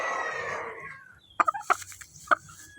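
Chickens at a poultry farm: a dense run of clucking and fowl calls up front, then several sharp, loud separate squawks or crows close by, with no talk.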